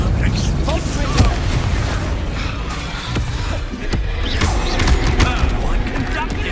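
Confringo fire spell blasts in Hogwarts Legacy, dense rumbling booms and crackling explosive bursts over continuous combat noise, loud and close, with voices shouting over the chaos.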